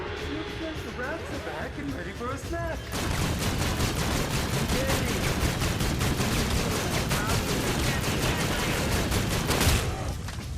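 Rapid gunfire from the Reaver weapon in Call of Duty zombies on the Shaolin Shuffle map, dense repeated shots running continuously for most of the stretch after a brief quieter opening with game sounds.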